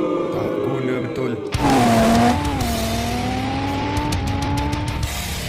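Cars in an illegal street race, including a BMW, with a loud engine roaring and rising in pitch over steady road and traffic noise, while voices talk over it.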